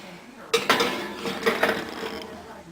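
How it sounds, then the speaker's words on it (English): Cheesecake cups set onto an oven rack, a cluster of metallic clanks and rattles from the rack and pans, close and moderately loud. "Once that is done, you want to place the cheesecake cups into the oven."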